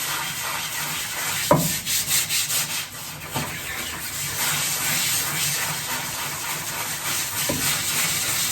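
A scrubber brush works over a wet screen-printing screen with dishwashing liquid, giving a steady broadband rubbing hiss with a few sharper knocks, close and continuous, with no voices.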